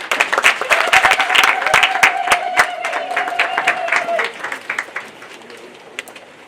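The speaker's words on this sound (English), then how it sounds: "Please, another round of applause" An audience at a ceremony honoring Botswana's founding president breaks into close, loud applause with sharp individual claps. A sustained vocal tone runs underneath for a few seconds, and the clapping then thins and fades.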